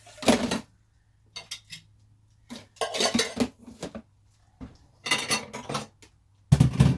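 Dishes, pots and cutlery clatter and clink in several separate bursts as they are cleared away in a home kitchen during lasagna preparation, close and fairly loud with quiet gaps between.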